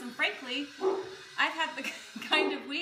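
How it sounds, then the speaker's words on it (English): Dogs barking indoors, several sharp yips and barks repeating in quick bursts, close and fairly loud beneath someone talking. "Do you hear the dogs?"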